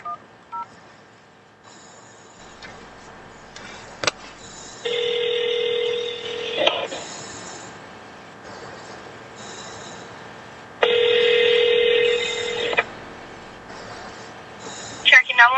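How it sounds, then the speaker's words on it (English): Touch-tone telephone keypad tones sound during a call, with two long steady tone stretches and short beeps between, heard over a faint line hum alongside brief bits of talk. "Is there any way I can make a fraud report over the phone?"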